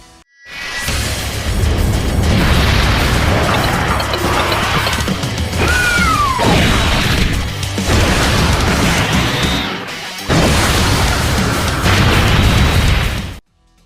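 Volcano Explosion super attack effect from Dokkan Battle: a loud, dense roar of crashing, booming blasts that goes on for about thirteen seconds, with a rising whistle partway through and a brief drop before the final surge.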